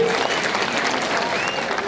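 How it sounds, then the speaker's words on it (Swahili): An audience at a gathering with bishops, a chairman and a governor present claps for a performer, a brief burst of dense applause heard close and steady. "mpigieni Makarena makofi tafadhali"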